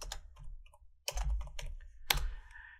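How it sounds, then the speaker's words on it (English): A computer keyboard clicks as a command is typed at a Windows command prompt: a few scattered soft keystrokes, then louder bursts of clacking and a final firm key press, close and clear with no talk. "now we just type net user"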